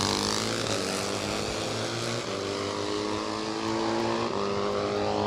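A supercharged 750 Triumph and a pair of supercharged 500cc Norton motorcycles at a drag race, a loud sustained engine roar with rising and shifting pitch as the bikes run, no talk over it.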